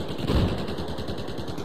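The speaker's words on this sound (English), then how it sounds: "Hear those shots coming from like right up there." Distant sniper shots in Battlefield 4, a short muffled report rolling over steady low battlefield rumble, heard alone without talk.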